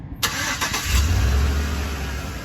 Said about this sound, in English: Vehicle fires right up.